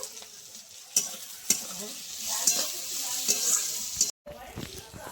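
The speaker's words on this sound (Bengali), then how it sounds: "আর একটু ভাজবো" Beans and eggplant fry in a pan with turmeric and salt, a steady sizzle under sharp scraping stirs at roughly half-second to one-second intervals, close and fairly loud, with a brief dropout near the end.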